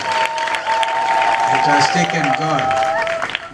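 A church congregation applauds at a 50th anniversary service of an AIC church in Malindi, steady clapping filling the room while someone speaks over it.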